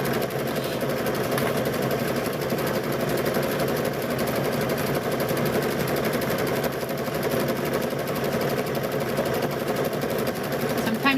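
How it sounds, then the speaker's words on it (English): A sewing machine stitches binding onto a quilt, running as a steady, continuous mechanical whir that holds close and fairly loud for the whole stretch with no pauses. "Let that machine pull that fabric"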